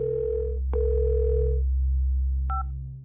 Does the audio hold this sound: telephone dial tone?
yes